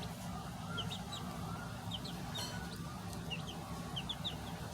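Chickens cluck softly and intermittently over a steady, noisy background hum, the short calls scattered and fairly close.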